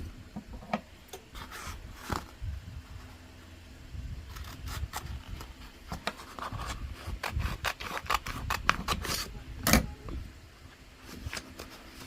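Material being cut for a glass vintage-style Halloween banner: scattered quiet snips, clicks and scraping rasps, irregular and close, with no speech.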